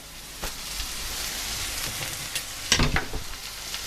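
Onions, garlic and chili sauté in a hot pan beside prawns, giving a steady sizzle with a few sharper crackles and spatters, close and moderately loud, with no talking.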